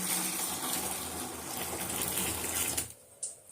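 Hot water pours steadily into a container with a rushing, gushing sound, then stops abruptly, leaving a few drips and clinks.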